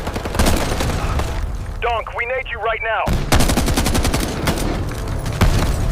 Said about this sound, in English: Iraqi infantry emerge from the storm and unleash a deadly wave of gunfire